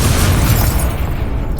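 The Confringo blasting curse in Hogwarts Legacy detonates with a loud, close boom that rumbles on steadily before easing off.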